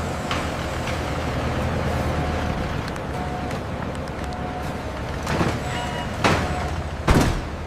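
A transport truck pulls out from a Yoplait yogurt factory: a low, steady engine rumble with wind-like noise, then several sharp hissing bursts like air brakes toward the end, moderately loud and with no talk.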